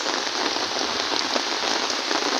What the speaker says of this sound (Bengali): প্রচুর পরিমাণের বৃষ্টি হচ্ছে